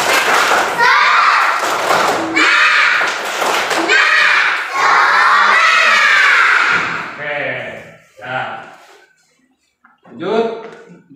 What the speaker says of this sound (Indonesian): Sebelum kita belajar, tepuk semangat dulu.